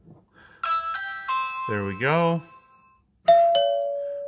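A Ring video doorbell sounds its chime when pressed: several bright, tonal ding notes ring out at close range, with a person speaking briefly between the tones.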